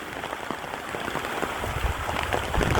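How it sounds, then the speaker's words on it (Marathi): Heavy rain pouring on farmland beside a cotton field, a dense continuous hiss of drops close by, growing slightly heavier toward the end, with no voices. "पाऊस सुरू झाला होता, जोराचा पाऊस चालू आहे."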